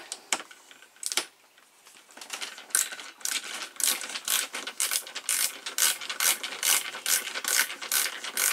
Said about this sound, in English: you just take these screws out.